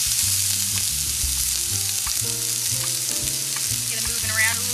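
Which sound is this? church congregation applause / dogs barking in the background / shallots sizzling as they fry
shallots sizzling as they fry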